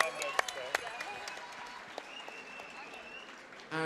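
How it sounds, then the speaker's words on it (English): A fight crowd applauds both fighters after a five-round bout, a faint, distant patter of clapping with a few sharp louder claps, under a ring announcer's voice. "a massive round of applause for both of these men"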